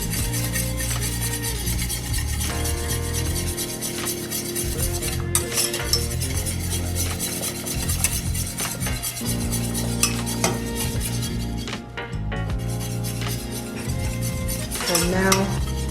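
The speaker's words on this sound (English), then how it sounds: "And now I'm ready to add 1 cup of powdered sugar to this. Stir it in slowly." A spoon stirs powdered sugar into a cream cheese mixture in a bowl, a continuous close scraping and clinking that runs steadily throughout with occasional sharper knocks against the bowl and no talk.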